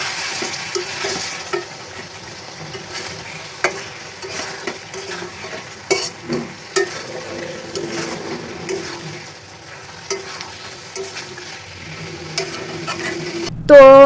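Meat with bay leaves is stir-fried in a pan, with repeated spatula scrapes and clinks over a steady low sizzle, close up and without talk.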